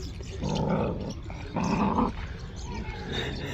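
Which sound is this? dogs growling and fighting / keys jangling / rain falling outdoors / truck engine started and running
dogs growling and fighting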